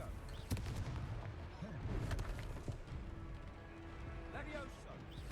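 A fire spell goes off in the Hogwarts Legacy video game, with sharp blasts and crackling impacts among battle noise, mixed with voices talking.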